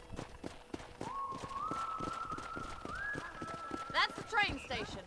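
Horse hooves clip-clop in a steady, rapid galloping rhythm in Red Dead Redemption, with a whistle-like tone and a brief whinny near the end, under nearby speech.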